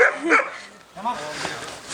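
Dogs gathered at a social dog exam bark and yip in short bursts at middle distance, mixed with people talking nearby.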